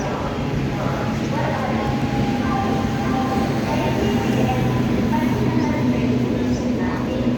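Intercity Express train arriving at a station between Secunderabad and Guntur, a steady rumbling rail roar with faint clatter, continuous and moderately loud.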